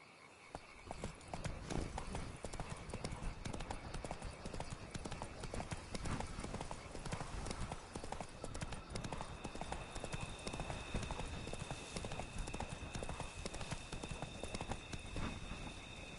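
Horse hooves clip-clop steadily in Fallout 4, a continuous rhythmic trot of fairly close hoofbeats that runs throughout, with faint ambient game sound underneath.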